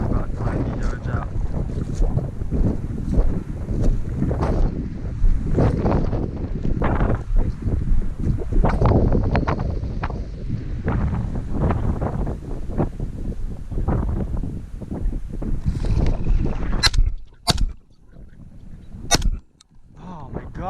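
Strong wind roars steadily across an open field during an upland bird hunt with a pointing dog, a loud buffeting rush that drops into brief lulls near the end, with faint voices under it.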